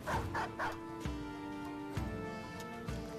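A dog barks in the Battle Brothers video game, several loud, close barks and yips over a steady tonal game soundtrack, with no talk.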